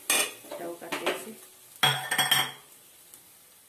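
Fried egg-rice pieces are scraped from a pan into a bowl with the stove off, giving loud metal clanks and spoon scrapes in two bursts, followed by a quieter tail of light clinks.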